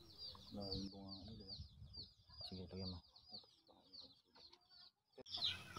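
A recovered chicken treated for fowl pox clucks in short repeated bursts, fairly close, with other soft farmyard sounds around it and a faint rhythmic high chirping running throughout.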